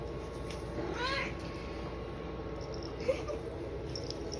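A single cat meows once, a short rising cry, over a steady background hum and faint room noise.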